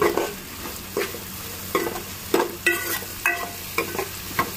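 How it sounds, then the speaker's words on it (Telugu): Chopped onions and green chilies frying in a pan for a Telugu okra and egg curry, with a steady sizzle broken by repeated scraping stirs of a spoon in an even rhythm. "కట్ చేసుకుని పెట్టుకున్న పచ్చిమిరపకాయ ముక్కలు కూడా వేసుకొని బాగా కలర్ వచ్చేంత వరకు వేయించుకోవాలండి"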